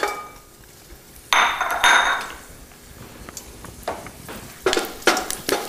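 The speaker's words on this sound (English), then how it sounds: "So I'm going to begin by sauteing the garlic." Garlic hits hot oil in a pan with a bright sizzle, and utensils knock and scrape against the metal in scattered bursts, fairly close and with no talking.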